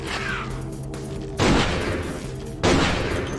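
Two heavy shotgun blasts in Vampire The Masquerade: Bloodlines, loud booming reports about a second apart over a low game ambience, each trailing off in a rumbling decay.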